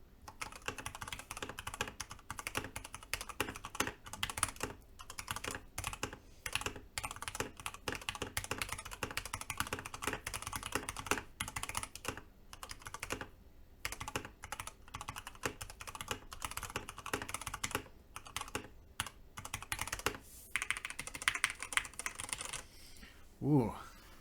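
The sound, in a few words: typing on a mechanical keyboard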